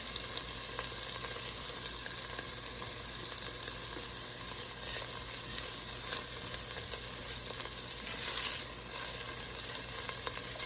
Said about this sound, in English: Now I'm going to add the garlic.